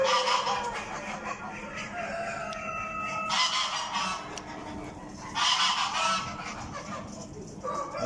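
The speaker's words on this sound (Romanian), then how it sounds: "Aici este o gâscă alsaciană, bălțată, foarte frumoasă astea. Sunt destul de stresate" Piebald Alsatian geese honking loudly at a national poultry exhibition, repeated harsh calls overlapping in a busy hall, close and continuous.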